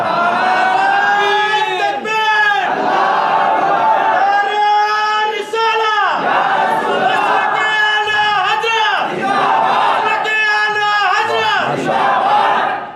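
A large crowd chants slogans in unison at a religious celebration inside a mosque, loud and close, with repeated rhythmic shouted phrases rising and falling in waves throughout.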